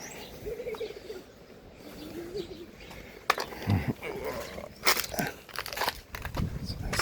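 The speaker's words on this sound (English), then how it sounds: "I'm sure that's the parakeets." Parakeets call outdoors in La Mata, Spain, with scattered chirps and squawks rising among rustling and background voices.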